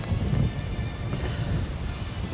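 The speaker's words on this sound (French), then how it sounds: "il commence à pleuvoir un petit peu" Light rain beginning to fall during a motorcycle ride, a steady soft patter with low rumbling wind and engine noise underneath, continuous and fairly close throughout.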